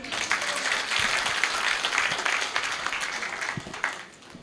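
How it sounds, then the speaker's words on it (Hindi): Live audience at a Hindi comedy and poetry stage show breaks into sustained applause, a dense continuous wash of clapping that holds steady before tapering off at the end. "एक बार तालियां बजाइए।"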